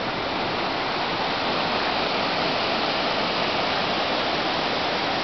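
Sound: stream flowing water

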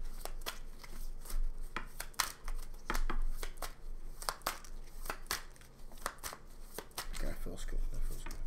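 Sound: shuffling tarot cards

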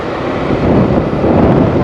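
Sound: breeze

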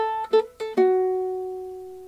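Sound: ukulele fingerpicking with plucks, hammer-on and pull-off

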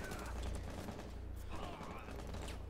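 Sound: gunfire in Rainbow Six Siege video game

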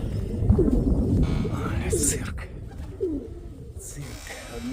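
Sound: pigeons cooing

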